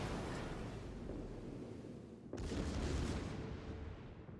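Secondary guns of a US battleship fire in a World of Warships naval battle, a continuous rumbling barrage under constant ocean and engine noise, with a sharp heavier blast midway that lifts the din briefly.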